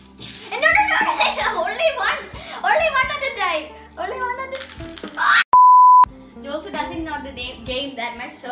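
A single steady electronic timer beep, loud and clear, sounds during a children's birthday party game, set amid excited kids' chatter and adult talk, with a brief silence just before the tone.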